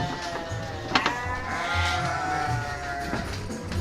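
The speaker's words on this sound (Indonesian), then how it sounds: "Ini kita punya domba-domba ekor tipis, domba tekstil." Garut and thin-tailed sheep bleating on a farm, a few short bleats scattered over a busy pen background with steady low rumble, moderately close.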